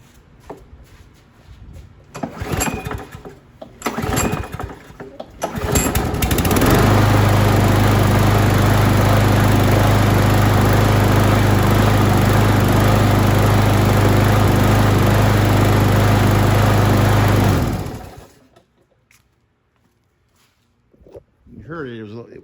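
A Yard Machines lawn mower, a 2012 model left outside for over six years with a partially sheared flywheel key, runs loud and close for about eleven seconds with a steady drone that surges and misses slightly, after talk and handling noises before it starts.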